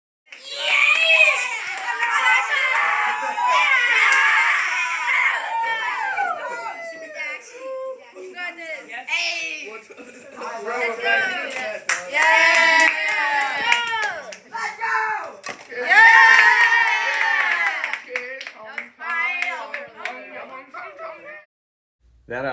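Sixth-grade students cheer and shout excitedly for a classmate as his robot runs the code he wrote, with lively overlapping children's voices, squeals and high-pitched whoops throughout, close by in a school robotics session.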